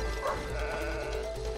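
A sheep bleats in the video game It Takes Two, one short wavering call over the game's background sounds.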